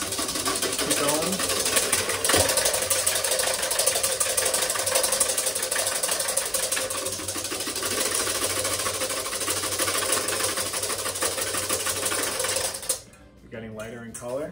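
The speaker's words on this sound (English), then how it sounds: "Different stages they're going to go through as we're whipping." A stand mixer whips ingredients for waffle batter to a frothy, foamy stage, its motor whirring steadily and loudly for most of the clip before stopping near the end, with a voice speaking over it.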